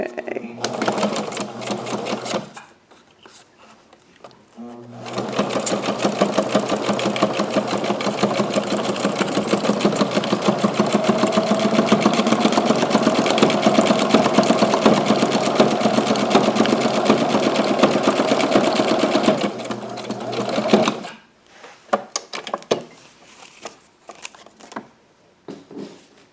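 A small, cheap sewing machine stitches through thick scrapbook paper in a loud, steady whirring run of about fifteen seconds, with quieter handling and talk before and after it.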